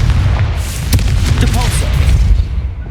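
Explosion from the Confringo spell in the Hogwarts Legacy video game: a loud, booming blast with a sharp crack near one second, followed by rumbling debris and crackle over three seconds.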